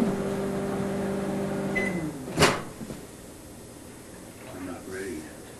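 A microwave oven hums steadily in a bed-and-breakfast kitchen, then a door clicks open with a sharp clack, and people talk nearby afterward.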